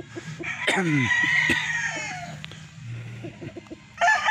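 A rooster, a gamefowl broodcock, crows loudly close by in one long call, with clucks and another crow starting at the end.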